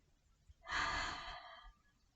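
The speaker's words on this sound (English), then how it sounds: "And breathe." A single slow breath during a forward bend in a kids' yoga session, a soft airy exhale lasting about a second, close and quiet with no talking.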